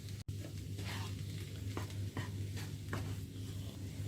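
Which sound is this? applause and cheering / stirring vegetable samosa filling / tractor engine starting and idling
stirring vegetable samosa filling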